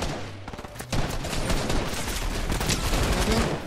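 Rapid bursts of automatic gunfire crackle continuously, dense and loud, like a sustained firefight in the video game Fortnite.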